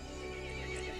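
A horse neighs and whinnies in a Ubisoft video game, a loud, steady whinny lasting about a second over a continuous game soundscape, with hoof clip-clop mixed in.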